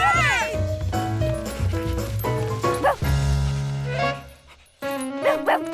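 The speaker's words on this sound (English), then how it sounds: "It's that dog again!" A cartoon dog in an animated Curious George episode lets out a quick series of barks and high yips, loud and up front, over other animated sound.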